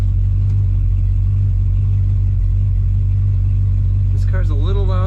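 A 1962 Ford Fairlane two-door post running, its loud, steady engine rumble droning close and continuous, with a brief whine near the end.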